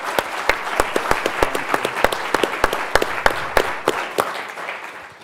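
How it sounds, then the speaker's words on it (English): Applause from an audience after a film screening, a moderate crowd clapping steadily with distinct sharp claps standing out, gradually thinning toward the end. "I think it deserves another round of applause"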